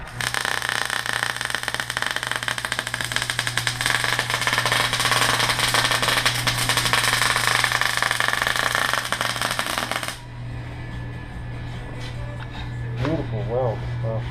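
Welding runs loud and steady for about ten seconds, a dense buzzing crackle over a low hum, then cuts off and leaves a quieter humming background.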